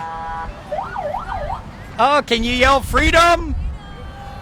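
Police sirens whoop and wail loudly nearby in short bursts during a freedom convoy, with people talking over them.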